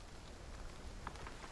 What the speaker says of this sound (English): Oh, I hear rain.